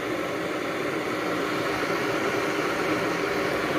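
A higher-wattage electric kettle boiling: continuous loud roaring hiss of water coming to a boil, unchanging and close, with no voices.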